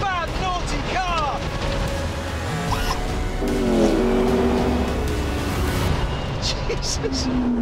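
A 903-horsepower McLaren P1 hypercar revs and accelerates hard, its engine pitch climbing in repeated sweeps through the gears under excited talk from the driver.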